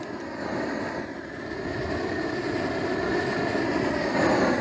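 A Brul'Star thermal weeder's gas flame roars steadily and close, a broad continuous rushing burn that grows slightly louder toward the end, with no talk over it.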